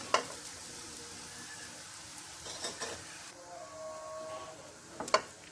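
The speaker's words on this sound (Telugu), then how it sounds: "స్టవ్ సిమ్లో పెట్టుకొని రెండు వైపులా గోల్డెన్ కలర్ వచ్చే వరకు వేయించుకోవాలి" Sweet potato tikkis fry in a pan on a low flame, a quiet continuous sizzle with occasional light clinks and scrapes, nearby but soft.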